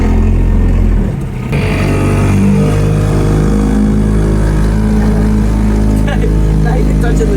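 A small 5 horsepower engine vehicle accelerates up close with a loud, steady drone that holds the whole time, and there is a short dip near the start.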